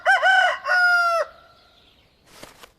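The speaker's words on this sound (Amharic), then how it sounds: "እኔ ራስ ዶሮ ነኝ፣ የግቢው ድምፅ።" A rooster crows loudly and close in a courtyard, one long drawn-out cock-a-doodle-doo, followed by a faint trailing tail and a few soft scratchy sounds.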